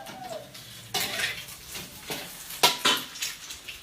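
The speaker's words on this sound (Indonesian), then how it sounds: "Ini aku lagi masak di dapur." Kitchen cooking at home, with pots and pans clattering, scraping and knocking in irregular bursts over a faint sizzle of frying, close and moderately loud, no talking.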